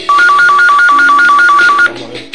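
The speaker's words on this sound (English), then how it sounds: "Somebody's calling." A telephone ringtone trills loudly and close by, a rapid repeating electronic two-tone pattern that runs for about two seconds before cutting off, with no voices.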